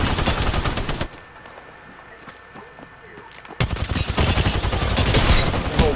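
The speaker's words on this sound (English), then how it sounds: "Bro, why is the whole team shooting at me?" Rapid automatic gunfire in a first-person shooter game match, loud bursts of repeated shots, a brief quieter gap with faint distant pops, then heavy sustained firing again, close and dense.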